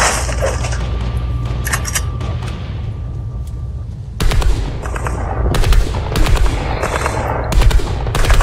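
Bursts of rapid gunfire and booming shots from a Fortnite match, loud and close, with dense firing filling the second half after a quieter stretch.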